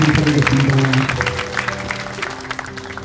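Wedding guests at a house wedding hall applauding, a burst of clapping that starts loud under sustained music and a voice, then thins and fades over about three seconds.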